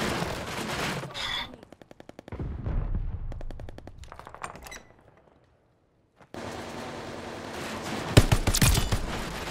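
Bursts of automatic gunfire in the shooter game Call of Duty Vanguard, rapid rattling volleys broken by brief pauses and a near-silent gap, then dense loud firing with sharp close shots.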